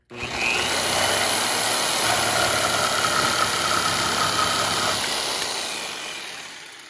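A HYCHIKA jigsaw cuts a workpiece clamped in a vise, a loud, steady buzzing motor with a rasping blade running nonstop for about six seconds before winding down, close to the listener.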